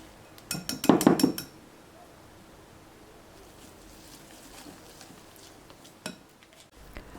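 Spoon clinking and scraping against a bowl as ingredients are mixed with cornstarch for a coffee cake roll: a quick burst of loud clinks near the start, then quiet, with one more faint clink later.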